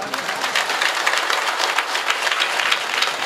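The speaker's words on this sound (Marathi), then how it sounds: "जरा जोरात टाळ्या वाजवा कलाकारांसाठी" A sustained wash of applause from an audience at a kirtan devotional performance, dense and steady clapping with no pauses, filling the space.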